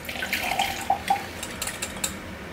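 A kitchen tap runs a brief splash of water into a tahini dressing, a steady close hiss of flow with a few light clinks and splashes over about two and a half seconds.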